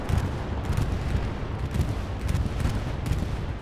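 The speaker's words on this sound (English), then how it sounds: "The Ronin bombing run couldn't get the triple." A dense, continuous barrage of explosions and gunfire rumbles from a bombing run in a World War-era multiplayer video game match, loud and unbroken with overlapping low booms throughout.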